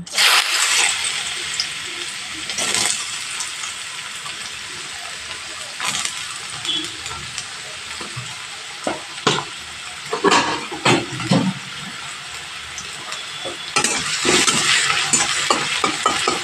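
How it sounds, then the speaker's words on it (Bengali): Potatoes fry in hot mustard oil, a close, steady sizzle with scattered clatter and stirring knocks, the hiss swelling louder near the end. "তেলটা গরম হয়ে গেছে, আলুগুলো এবার আমি দিয়ে দেবো ভাজার জন্য।"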